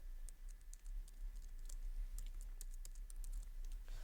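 Quick keystrokes on a computer keyboard as a short title is typed, a light, faint patter of scattered clicks over a quiet background hum, with no talking.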